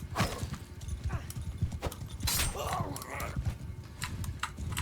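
Horse hooves clip-clopping at a run in the video game Mount and Blade 2, steady thudding footfalls with a neigh partway through, under a man's speech.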